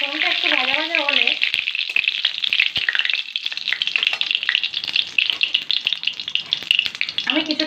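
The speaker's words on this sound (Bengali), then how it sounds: "ফোড়নটা একটু ভাজা ভাজা হলে" Dry red chilli and whole cumin seeds sizzle and crackle in hot oil in a pan, a steady dense fry that runs throughout with occasional stirring scrapes, while someone briefly talks at the start and again near the end.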